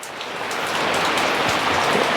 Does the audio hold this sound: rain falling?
yes